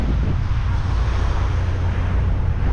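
Strong sea wind buffets the microphone aboard a fishing vessel with a constant low rumble, steady and loud, with no voices.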